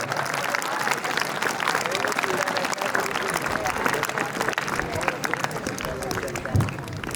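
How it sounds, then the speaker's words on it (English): Sustained applause from a school audience at a farewell for a college principal, dense steady clapping filling the whole stretch with crowd murmur underneath. "Please welcome him with a huge round of applause."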